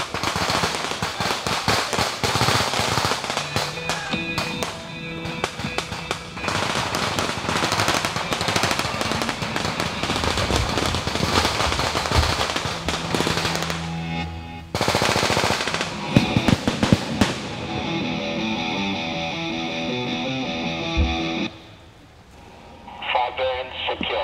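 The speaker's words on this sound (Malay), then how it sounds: "kawasan penyeberangan masih tergegar dengan tembakan tidak langsung daripada" Dense, sustained bursts of distant gunfire and booming explosions during a military engineer river-crossing demonstration, continuous and loud, with a brief lull before the rattling resumes.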